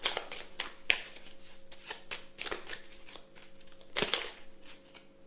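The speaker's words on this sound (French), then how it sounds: "Je vais faire les 3 tirages en même temps." Oracle cards are shuffled and drawn by hand, close and quiet, with repeated riffling flutters and light slaps of cards over a soft room hum, with no one speaking.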